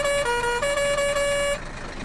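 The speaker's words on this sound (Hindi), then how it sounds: "ट्रक का हॉर्न" A truck horn in the video game Indian Theft Auto Simulator blares in a sustained, loud, tonal blast that shifts pitch a few times before cutting off, leaving a faint tail.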